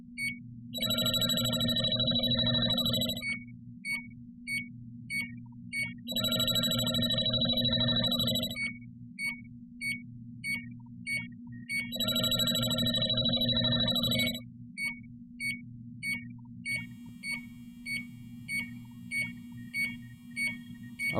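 A JB Industries LD5000 Prowler refrigerant leak detector sounds a loud electronic alarm in three long bursts of shrill beeping, separated by shorter gaps of quieter rapid ticking chirps, with no voices.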